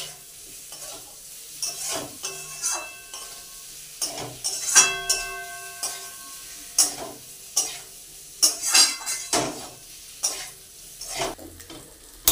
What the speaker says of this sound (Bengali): ভালো করে মশলার সাথে আলুগুলো মিশিয়ে নেব নেড়ে করে।